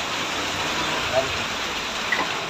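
Steady rain hissing across a wide band, even and continuous, with a couple of faint brief taps standing out.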